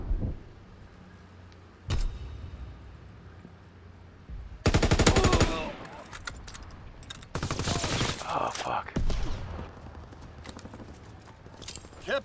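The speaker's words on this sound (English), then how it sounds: "Fighter pilot inbound, strafing the target." Rapid machine-gun fire from an aircraft strafing run in the WWII shooter Call of Duty: WWII, with a sharp shot, then a dense close burst and a longer rattling volley over a low rumble.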